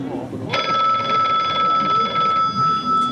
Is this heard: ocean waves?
no